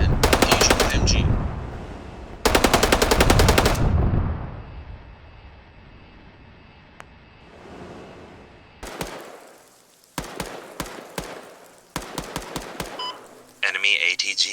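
Bursts of video game machine gun fire in a military combat scene, long rattling volleys followed by several short, sharp bursts, loud and close, with radio-style talk between the shots.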